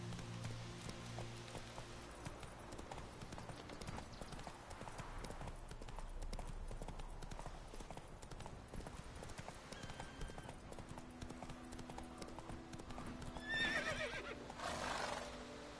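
In The Witcher game, a horse's hooves clip-clop in a steady galloping rhythm with a whinny near the end, moderately quiet under game ambience, while someone speaks briefly.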